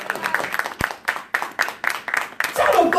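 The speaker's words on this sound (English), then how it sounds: "Clap your hand for Jesus Christ" Congregation at a church sermon clapping hands in a fast, uneven rhythm of bursts, with a preacher's voice talking over the applause.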